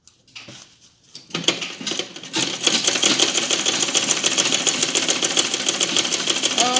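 Sewing machine stitching fabric lines on a makeup brush organizer: a few hesitant starts, then a steady, fast, close mechanical whir and chatter that runs on to the end with no talking.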